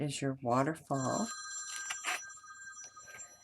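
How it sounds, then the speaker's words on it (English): A telephone bell rings softly in the background as someone talks in the foreground, its tone sustained under her voice. "Excuse the phone ringing in the back"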